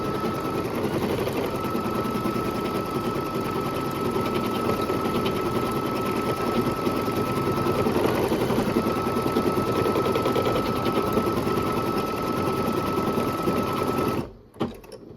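Embroidery machine stitching a satin stitch on a spooky-season bowl filler, a steady fast mechanical chatter running loud and close without a break until it stops abruptly near the end.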